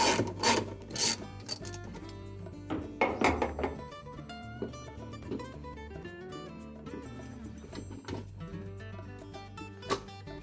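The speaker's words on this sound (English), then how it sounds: "using the extension on your ratchet, we're just going to loosen that bolt" A ratchet with an extension loosens a bolt on the auger post of a Whirlpool washer, heard as close rasping clicks and knocks in irregular bursts with a few metallic thunks.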